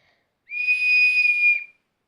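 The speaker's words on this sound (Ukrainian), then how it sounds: "Ну, просто такий свисток." A whistle from a Digi Birds toy bird set gives one steady, pure, high tone lasting just over a second. It starts and stops cleanly, close by against silence.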